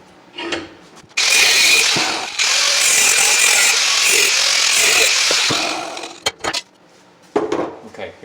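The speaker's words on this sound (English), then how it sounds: "We don't want this part, so I'm going to cut that part off." Power tool cutting a body part off a 2005-or-later Ford Panther car during a 5-speed swap, giving a loud, harsh, continuous grinding roar of several seconds, followed by a few clanks and short bursts.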